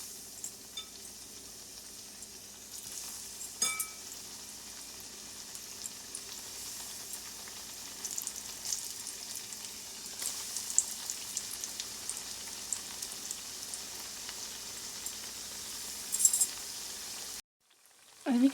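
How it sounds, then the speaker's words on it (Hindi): Sesame-coated taro root pieces sizzling steadily in hot oil over a medium flame, a soft, continuous crackle and spatter heard close up with no talking. "अरवी के टुकड़े एक तरफ से फ्राई हो रहे हैं।"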